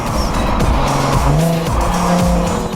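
A Jaguar rental car is driven hard off-road in Colorado, its engine revving loudly alongside continuous tire squeal and skidding, close up and without pause.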